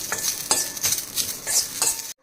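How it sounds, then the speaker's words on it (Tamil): Rasam powder spices dry roasting in a pan, stirred with a utensil in quick repeated scrapes and rustling strokes, close and steady, then sudden silence at the end. "நல்லா ஆகிற வரையும் நல்லா வறுத்துப்போம்."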